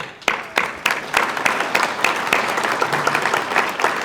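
Audience at a fire and rescue awards and recognition ceremony applauds steadily, a dense wash of many hands clapping with distinct sharp claps standing out, sustained throughout.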